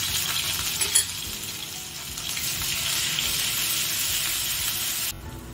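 Chopped ginger and garlic drop into hot oil and sizzle loudly and steadily at close range, a dense frying hiss that holds for several seconds before easing at the end, with no voices.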